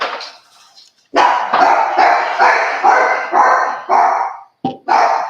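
Dogs barking nearby in a rapid run of loud repeated barks, roughly eight sharp bursts in quick succession after a brief quieter whine at the start.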